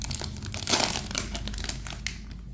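Foil-like wrapper of a 2023 Series 1 retail trading card pack being ripped open, a close, steady crinkling and crackling for a couple of seconds with a brief louder tear near the start.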